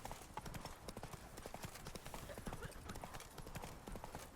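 Geralt's horse Roach gallops in The Witcher 3, hooves beating fast and evenly up close throughout, with speech woven over the pounding rhythm.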